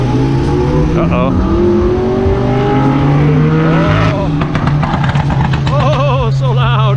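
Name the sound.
loud car engine at Ferrari Maserati car show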